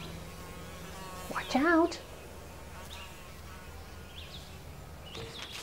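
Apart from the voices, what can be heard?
bee buzzing around dill flowers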